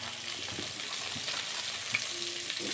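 Potato and brinjal chunks sizzle steadily in hot oil in a pan with turmeric, a soft continuous frying crackle with faint stirring scrapes, heard alone without talk.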